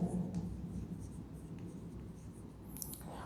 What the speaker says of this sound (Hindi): यहाँ पे नोटिस लिखते हैं।